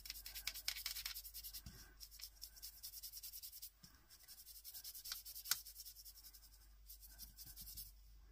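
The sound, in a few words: colouring a heart in light blue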